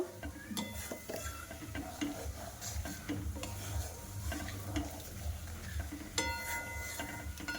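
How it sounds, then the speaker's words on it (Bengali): Cumin seeds and spices stirred in hot oil in a kadai for a chicken curry, giving a steady soft sizzle with a spoon scraping and clinking against the pan throughout, close by and without talk. "একটু তেলের মধ্যে নাড়াচাড়া করে নেব"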